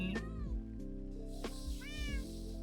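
A Minecraft cat meows several times in a row, clear and fairly close, with short rising-and-falling cries over a steady bed of game music.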